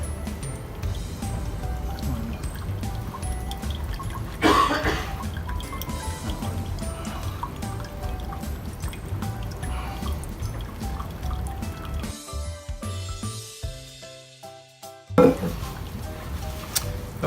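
Tea being poured through an old MatrixStore faceplate used as a strainer, steady trickling and dripping liquid with a few louder clinks, close and alone.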